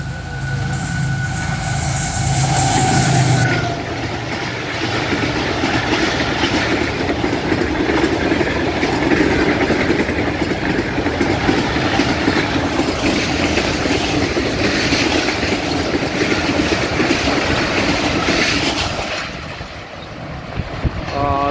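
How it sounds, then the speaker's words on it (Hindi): Express train hauled by a GEU 30 diesel locomotive rushing past at high speed, a loud sustained roar and rattle of wagons lasting many seconds, with heavy wind buffeting before it fades near the end. "बहुत ही तेज़ स्पीड से यहाँ से गुज़र रही है GEU 30 की क़यादत में और ट्रेन बहुत ज़्यादा स्पीड में है।"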